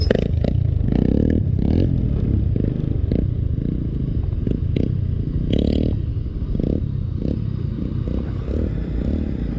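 A small scooter engine labors and revs unevenly, with rattling clatter and scraping bumps as it climbs a rough road.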